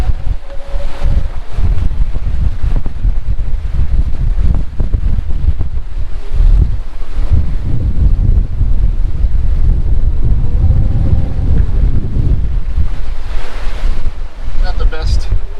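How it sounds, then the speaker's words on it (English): Strong wind buffets the microphone in heavy, roaring gusts in the British Virgin Islands, mixed with the wash of surf and water, loud and constant throughout. "It's been very, very windy. Just huge gusts."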